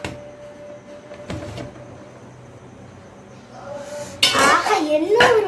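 A metal cooking pot lid clanks and scrapes as the pot of steamed dumplings is opened, a bright clatter near the end after a quiet stretch with a faint hum, while someone talks.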